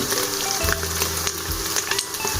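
Garlic, ginger and onion fry in hot oil for a dhaba-style chana daal, giving a dense, continuous sizzle with occasional crackles and stirring scrapes, close and fairly loud.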